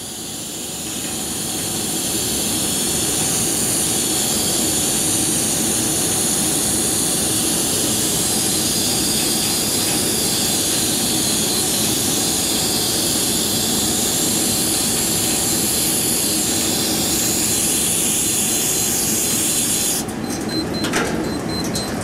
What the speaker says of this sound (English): Now what I like to do is nitrogen dry the back of the wafer.